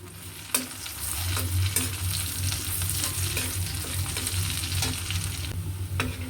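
Chopped garlic and dried chillies sizzle steadily in hot oil in a pan, a dense continuous crackle with a low hum underneath and occasional spatula taps.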